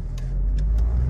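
A car with a TSI petrol engine in sports mode accelerates hard with the pedal pressed deep, giving a steady low engine rumble that builds slightly, heard from inside the cabin with no talk.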